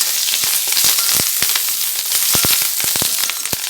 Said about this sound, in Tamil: அந்த மீதி இருக்கிற கருவேப்பிலையை நல்லா மொறு மொறுன்னு ஆறு அளவுக்கு வறுத்து எடுத்துக்கலாம்